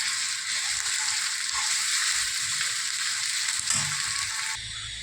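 Loud, steady sizzling of ginger garlic paste frying in hot oil, with a brief stir partway through and no talking.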